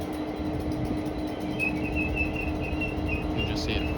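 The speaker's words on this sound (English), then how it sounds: "And also passing by is another duo of Class 387s en route from Heathrow Terminal 5 to London" A pair of Class 387 electric trains run past Acton Mainline on the Great Western Main Line, a continuous heavy rumble and roar of wheels on rail with a thin squealing tone rising briefly near the end.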